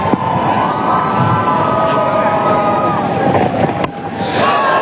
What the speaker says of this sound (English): the Ireland fans in the crowd are up and about